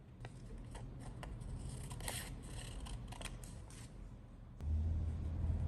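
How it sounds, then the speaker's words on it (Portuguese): Scissors cut through felt for a small craft piece, producing a series of faint, close, crisp snips over a low background hum. "é só cortar no feltro agora"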